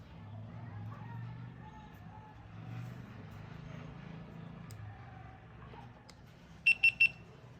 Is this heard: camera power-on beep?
yes